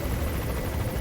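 A helicopter in the Metal Gear Solid V video game, a steady, dense rotor roar filling the whole moment, loud and close, with no voices.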